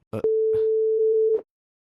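A steady telephone tone sounds for about a second after a short click, a single continuous electronic beep on a phone line while a call is being placed.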